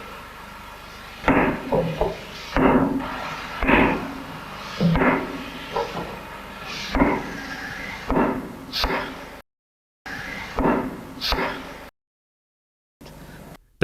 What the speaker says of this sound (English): The craftsman uses a hammer to tap lightly on the body of the stone.